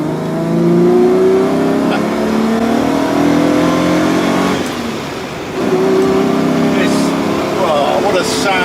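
A stock Jaguar 5.3-litre V12 accelerates hard with its engine climbing smoothly in pitch, dips briefly for a gear change, then pulls again, heard loud and close from the cabin.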